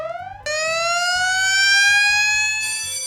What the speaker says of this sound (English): they blow the tornado hurricane siren